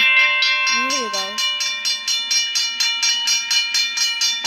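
Australian railroad crossing signal bell ringing in a steady, rapid repeated rhythm, loud and close. A voice speaks briefly near the start.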